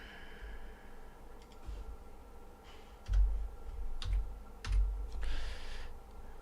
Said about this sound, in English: My typing is a little rusty.